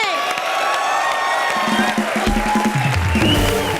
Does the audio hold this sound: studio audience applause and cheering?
yes